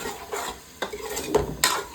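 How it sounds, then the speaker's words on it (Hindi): Chicken with dal and whole chillies being stirred and fried in a pot, four sharp scrapes of the spoon against metal over a soft continuous sizzle, close and fairly loud, with no talking. "और इसको अच्छे तरीके से भूनता है ना।"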